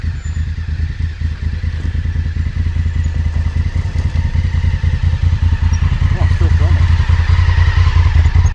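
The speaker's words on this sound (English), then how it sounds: "I'm gonna ride my bike down here." Continuous loud engine drone and rhythmic chugging come from a motorcycle ridden down a backcountry trail in Oregon. Rattles and wind rush sit up close over the engine throughout.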